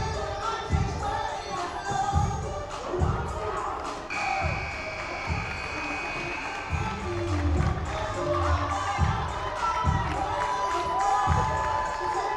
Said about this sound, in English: The crowd is into this one as we get going.